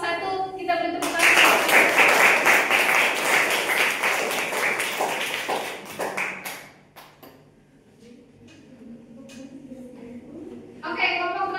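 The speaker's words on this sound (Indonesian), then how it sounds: "Kita beri tepuk tangan." A classroom group applauds together, dense clapping swelling for several seconds then fading, followed by quieter murmurs and a brief second burst of claps at the end.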